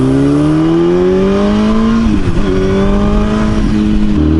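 A motorcycle on stock exhaust pipes revs steadily upward while riding, pitch climbing smoothly for about two seconds, dipping briefly, then rising again, loud and close with no talking.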